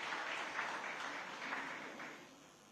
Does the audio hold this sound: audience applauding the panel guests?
yes